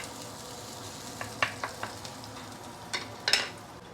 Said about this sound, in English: saute the shallot and also ginger